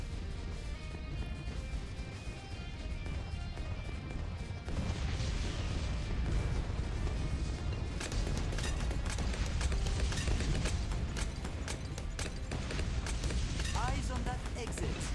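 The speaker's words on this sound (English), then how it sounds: "Let's see how these 2 cannons handle it." Heavy booming blasts and crashes from two cannons in Bloons fire repeatedly amid a dense, loud wash of game noise, growing busier and more rapid toward the end.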